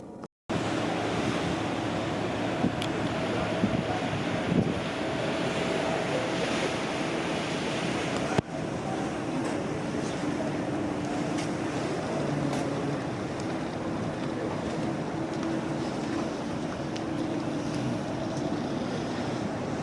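Steady wind and sea wash at sea aboard the Star Princess cruise ship, a continuous broad rush with surf-like swells and wind buffeting the microphone, a brief dropout early on, no voices.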